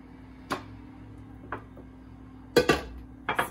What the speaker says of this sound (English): I'm putting this into my loaf pan